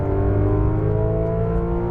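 A Porsche GT2 RS accelerates at full power on a race track, its engine a loud, continuous close roar that holds steady throughout with no voices.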